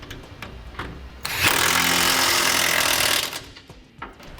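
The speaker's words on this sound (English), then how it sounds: "now we'll tighten down all of our hardware. For the nuts on our carriage bolts," An impact wrench drives the nuts on the carriage bolts of a Curt trailer hitch receiver on a 2018 Chevrolet with a 3/4 inch socket, a loud close rattling burst of about two seconds between quieter handling clicks.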